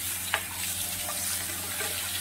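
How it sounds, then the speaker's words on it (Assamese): Onions and two dry chillies fry in a pan for mustard fish, giving a steady, fairly faint sizzling hiss with a couple of brief clinks throughout, no talking. "এইখিনি মই ধুনীয়াকৈ ৰঙচুৱা হোৱালৈকে ভাজি ল'ম।"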